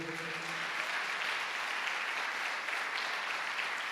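A church congregation applauds during a family service, a dense, even wash of clapping that carries on steadily throughout at moderate loudness.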